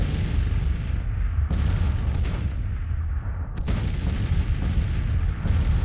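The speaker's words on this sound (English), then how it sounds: "Hyman's batteries, 12-pounder Napoleons, they're firing." 12-pounder Napoleon cannons fire in the Civil War strategy game Grand Tactician, loud booming reports arriving one after another amid a dense rumble of continuous battle noise.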